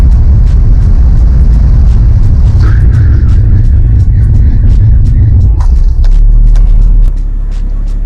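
A BMW E46 or Fiat 500 is heard from inside during brake testing, a loud steady engine and road rumble that eases slightly near the end, with faint squeaks and clicks over it.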